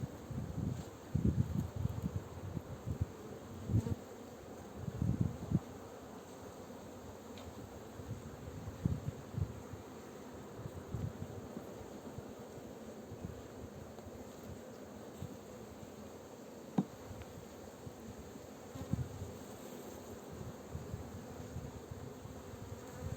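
A honeybee swarm, newly hived in a black hive in Antalya, buzzes in a dense, continuous drone, close and fairly quiet, with bees occasionally passing nearer amid faint rustling.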